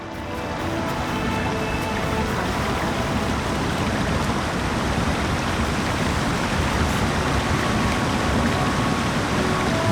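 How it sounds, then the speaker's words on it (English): A waterfall in the video game LOTRO pours in a dense, continuous broadband rush, loud and steady from start to finish with no voices over it. "it's also really close to another waterfall as well"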